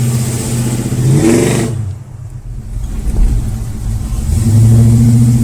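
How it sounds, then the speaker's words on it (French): A Chevrolet Chevelle Malibu, lowered, revs its engine and pulls away, a loud close mid-range growl that rises, drops off briefly, then swells again into a steady drone as it drives off. "On va faire un petit tour avec ta voiture."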